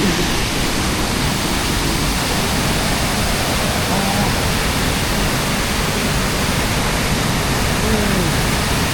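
Tad Maloed waterfall in Laos roars nearby in a loud, constant broadband rush of falling water that never lets up.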